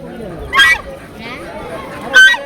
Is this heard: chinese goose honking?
yes